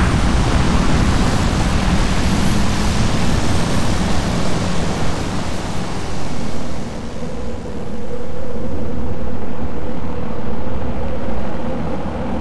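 An aircraft taking off in the strategy game Warzone 2100, a loud, steady, broadband roar that fills the whole stretch, dipping briefly midway before swelling again.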